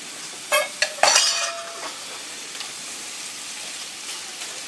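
Roughly chopped garlic is stirred in a hot pan at medium heat, a few sharp utensil scrapes and clinks early on over a faint, fading sizzle, close by with no voices.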